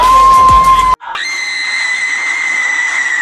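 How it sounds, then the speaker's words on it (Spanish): A K-pop idol lets out a loud, sustained horror-movie style scream, shrill and piercing, holding a steady high pitch for over two seconds after a short burst of other sound. "puede dedicarse a grabar gritos de películas de terror"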